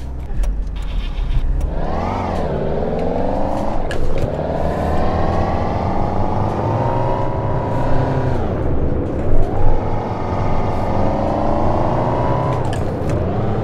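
A car engine in the driving simulator City Car Driving, with a modded sound: a continuous close drone that rises in pitch through several gear shifts, drops, and climbs again, with no speech over it.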